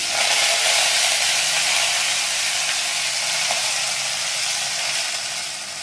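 Mustard seeds and curry leaves sizzle in hot oil in a Tamil home kitchen cooking potato poriyal, a loud, steady crackling hiss that runs on without pause and with no talking.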